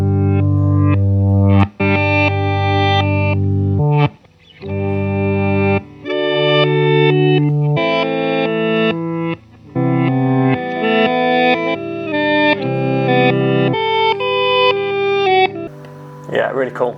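Electric guitar through a Line 6 One pedal on its reverse effect plays swelling chords that fade in backwards, with reverb and delay trails. Loud, ethereal phrases follow one another with brief gaps between them.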